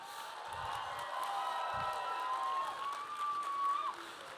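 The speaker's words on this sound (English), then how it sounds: "I want a huge round of applause for the team" A crowd at a furry convention's closing ceremony applauds and cheers steadily, with a long whistle rising above the noise near the end.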